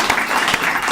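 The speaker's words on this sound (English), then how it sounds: "Let's give Scotty another round of applause." Audience applause for Scotty at a recovery services alumni meeting, a steady wash of clapping filling the room through the whole short moment.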